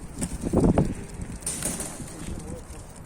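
A female pigeon flies in toward the listener, with a quick flurry of close wingbeats near the start, then softer fluttering and airy rustle.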